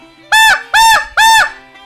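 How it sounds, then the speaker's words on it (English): Three loud, nasal honks from a Sean Mann Express White Out snow goose call, evenly spaced and close up, each rising sharply and breaking off with a short gap between. "it makes all the sounds of a snow goose"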